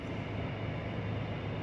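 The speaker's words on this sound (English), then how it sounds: "you're looking at a train" Train rumbling through the CSX rail yard in Lima, a low, steady rolling drone heard at moderate distance, fairly quiet and continuous with no voices.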